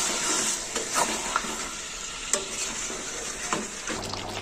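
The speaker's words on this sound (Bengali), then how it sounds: "মাংসটা দিয়ে ভালো করে কষিয়ে নেব মশলাটা দিয়ে।" Chicken sautés with spice paste and salt in a pan for Afghani chicken, a steady sizzle broken by several sharp spatula scrapes against the metal, close and fairly loud.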